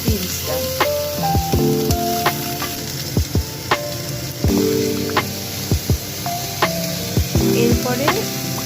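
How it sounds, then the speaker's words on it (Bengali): Carrot, capsicum, chicken and beans stir-fried on a medium flame, giving a steady sizzle broken by repeated sharp clinks and scrapes of the spatula against the pan. "এরপরে বিনসটা দিয়ে আমি আবার নাড়াচাড়া করতে থাকলাম।"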